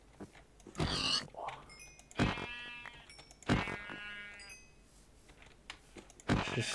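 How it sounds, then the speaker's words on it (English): Pig grunts from a Minecraft game running the Ice and Fire mod, a few short oinking bursts at spaced intervals with quiet gaps between them. "Oh, time to kill some pigs"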